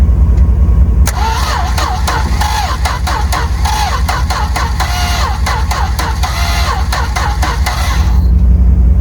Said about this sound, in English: So we're gonna see if we got enough power to get it spinning over at least.